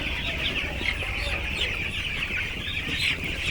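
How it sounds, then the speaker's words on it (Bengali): Young chickens about two weeks old on a village poultry farm cheep and cluck continuously as a dense, overlapping flock chorus, close and fairly loud, with no talk. "এই মুরগিগুলো 14-15 দিন বয়সের মুরগি।"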